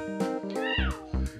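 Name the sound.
cat meowing in Toca Boca video game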